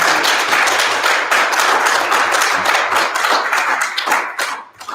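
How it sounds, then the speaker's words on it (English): A crowd at a town meeting in El Reno, Oklahoma claps loudly and continuously, close and enthusiastic, tapering off sharply at the end. "Let's give our speakers all another round of applause real quick."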